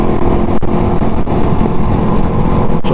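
A Suzuki Raider 150 motorcycle engine runs steadily and loudly close by, a dense low rumble mixed with wind buffeting, with a few sharp pops breaking through the continuous noise.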